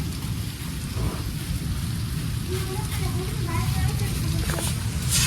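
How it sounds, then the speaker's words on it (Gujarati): Heavy rain pours steadily through a windy storm, a dense continuous hiss close by with faint rumbling, while voices talk over it throughout. "ભૂકા કાઢે છે અમારો વરસાદ"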